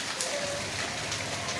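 Steady rain falling as a dense, even hiss, close and moderately loud, with no voices over it.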